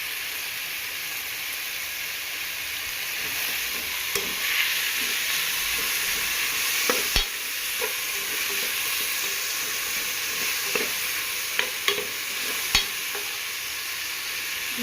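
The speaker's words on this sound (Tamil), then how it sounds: "நல்லா வதக்கிட்டு இன்னும் உப்பு போடணும். கல் உப்பு போடுறேன் பாருங்கள்." A chicken curry base sautés in a pan as rock salt is added, making a soft, even hissing sizzle with occasional spoon scrapes and a few clicks.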